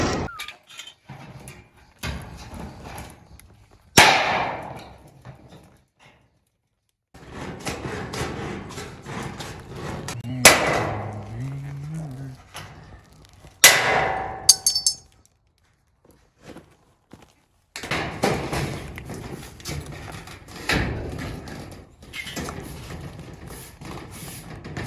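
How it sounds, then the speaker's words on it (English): Metal standing seam roof panel for a porch roof being cut, notched and bent, with sharp clangs, snips and scraping bursts separated by quiet gaps, close and fairly loud. "So we'll cut it there, notch the rib out, and then bend it up"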